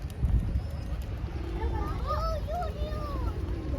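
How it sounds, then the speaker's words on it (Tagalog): A pigeon coos softly in short, rising and falling calls on an outdoor holiday outing in Baguio, faint beneath low rumbling background noise and nearby voices. "Kalapati yan, nak eh."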